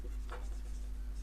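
Pen or pencil scratching on paper while maths is worked out during a lesson, a brief close stroke over a steady low hum.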